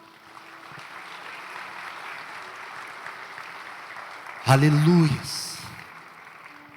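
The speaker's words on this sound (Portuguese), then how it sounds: "dá uma linda salva de palmas a Ele" A church congregation gives a soft, steady wash of clapping in the background for several seconds, then a voice calls out loudly over it as the sound fades.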